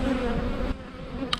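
Honey bees buzz in a steady close drone at an open beehive during a super box addition, a short continuous hum with a faint click near the end.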